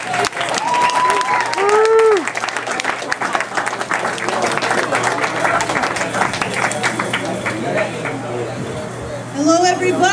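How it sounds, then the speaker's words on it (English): A crowd applauds and cheers at an open mic comedy contest, loud dense clapping filling the room with voices and whoops over it, briefly swelling again near the end. "Please give a big round of applause"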